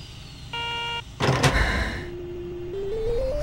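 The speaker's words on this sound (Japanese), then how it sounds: "ドアを閉めます。" Keikyu train doors closing in the Train Simulator game: a two-tone chime, then a loud pneumatic hiss and thud of the doors shutting, followed by a rising electric motor whine as the train starts off.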